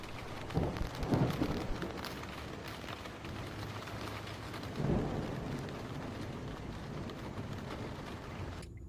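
Steady rain hisses on a windy day in Okinawa, with soft low rumbles of thunder rolling in around the first second and again near five seconds, distant and muffled beneath the constant wash.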